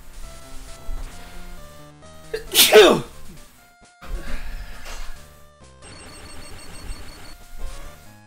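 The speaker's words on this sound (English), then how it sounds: "Sorry for the sneeze." A single sharp, loud sneeze bursts out midway through, set against quiet chiptune-style game music from Pokemon Crystal Clear and soft electronic tones.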